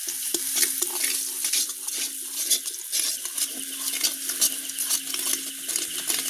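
Spices fry and are stirred in a hot pan, a dense close sizzle with continuous crackling and light scraping, steady throughout without any voices.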